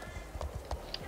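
Horse hooves clip-clop in Star Stable Online as a horse steps onto a dance floor at an equestrian festival, two or three soft, evenly spaced footfalls against a steady game background hum.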